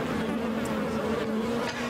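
A dense swarm of bees hums in a continuous, even drone, close and steady, with no voices present.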